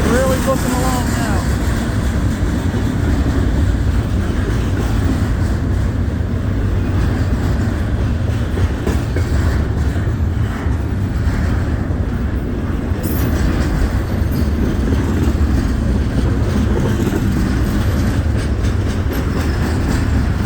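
A Norfolk Southern freight train rolls past on the railway north of Findlay, Ohio, a steady loud rumble of passing cars filling the whole stretch, close by, with faint talk now and then underneath.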